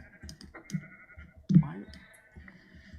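Sheep in Minecraft bleat as they are sheared, several short nasal bleats over a few seconds, punctuated by soft clicking and shuffling sounds.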